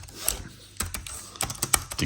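Typing on an XtremeMac computer keyboard: irregular clusters of sharp plastic key clicks, close up, with brief pauses between bursts.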